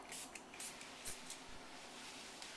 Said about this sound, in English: all we're going to do is spritz it on and just rub it in with a towel